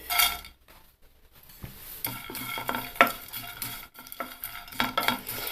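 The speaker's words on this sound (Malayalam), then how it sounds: "ഇത് ഒരു നന്നായിട്ട് ചൂടായ പാത്രത്തിലേക്ക് ചെമ്മീൻ ഇട്ട് കൊടുത്തു കഴിഞ്ഞ് ഒരു മീഡിയം ഫ്ലെയിമിൽ താഴെ വെച്ച് ഒന്ന് ചൂടാക്കി എടുത്താൽ മതി" Dried prawns roast in a hot pan over a medium flame, stirred with a utensil in irregular bursts of scraping and rattling against the metal, with a light sizzle between strokes.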